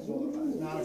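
Breeding pigeons in a loft give a soft, low cooing call, a single warbling coo lasting under a second, close by and fairly quiet.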